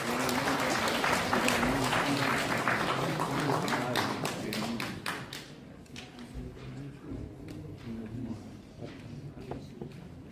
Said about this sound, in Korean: 여러분 환영의 박수 보내주시기 바라겠습니다.